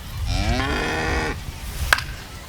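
A cow moos in a long drawn-out call inside the baseball video game MLB The Show 25, played as a gag for a cow insurance sponsor during a game broadcast, followed by a short sharp click.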